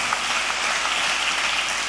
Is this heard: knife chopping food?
no